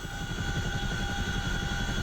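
Steady helicopter rotor and turbine drone from the DCS flight simulator during a cargo delivery flight, a continuous low rumble with a constant high whine, even and unbroken throughout.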